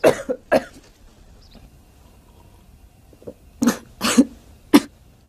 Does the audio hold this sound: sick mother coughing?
yes